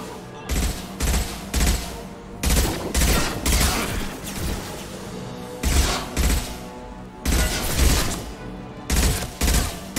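Mass Effect 2 combat with loud bursts of automatic gunfire coming in distinct clusters separated by short gaps, each volley sharp and close, repeating steadily across the stretch.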